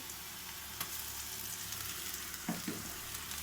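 Ginger garlic paste sizzles in a hot pan for a bottle gourd and chana dal curry, a steady close frying hiss with a couple of brief stirring scrapes near the end and no talking.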